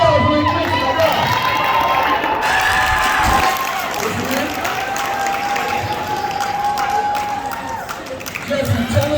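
A school assembly audience for Martin Luther King Jr. Day bursts into sustained applause and cheering, a dense roar of clapping and shouts filling the hall steadily for several seconds with no clear speech.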